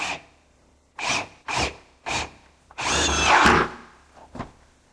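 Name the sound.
power drill driving screws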